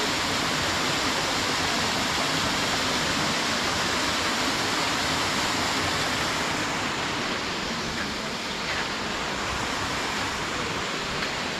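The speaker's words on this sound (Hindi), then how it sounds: "आई थिंक कोई झरना है, उस तरह आवाज़ तो आ रही है ऐसी। मैं सही था, आखिरकार वाटरफॉल ही है प्यारा सा।" Steady, dense rush of a waterfall in a Himalayan valley on the Deoria Tal trek near Sari village in Garhwal, a loud continuous broadband roar that holds without a break and with no voices.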